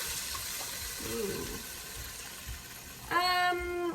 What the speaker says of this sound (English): So I'm gonna add filtered water.